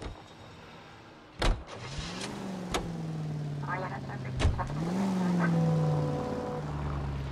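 A 1940s-era car in a video game being entered: a few sharp door clunks, then an engine starting and humming steadily, with a voice talking over it.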